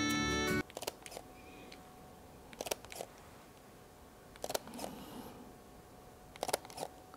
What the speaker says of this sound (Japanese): シャッター音がこういう音です。